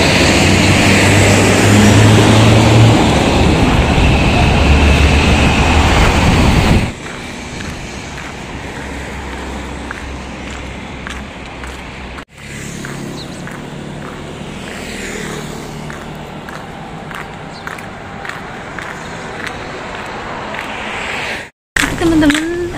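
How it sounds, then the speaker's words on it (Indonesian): Heavy traffic of big vehicles rumbles along a main road, a loud continuous roar of engines and wind for several seconds before dropping to quieter passing vehicles and light clatter. "Ini jalan gedenya ya teman-teman, banyak mobil-mobil gede."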